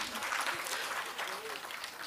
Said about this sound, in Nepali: एकचोटि तपाईँहरूको लागि